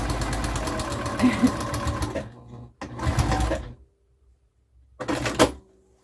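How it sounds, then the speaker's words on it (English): A sewing machine runs in loud bursts of rapid mechanical stitching, stopping and starting with short pauses between runs. "hopefully you guys enjoy the sound of the sewing machine."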